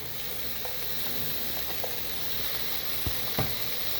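Vegetables sauté in a covered pan with steady soft sizzling and frying hiss throughout, plus a few faint clinks and knocks, close and even in level.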